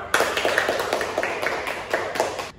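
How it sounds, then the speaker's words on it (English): Applause from a classroom audience at the end of a micro teaching session, a steady patter of many hands clapping for about two seconds with a few sharper claps on top. "Give applause once more"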